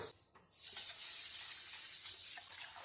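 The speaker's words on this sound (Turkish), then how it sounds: "Önce bir mercimeğimi yıkıyorum." Lentils being rinsed under running tap water in a kitchen, a steady hissing splash that starts after a brief quiet moment and continues evenly to the end.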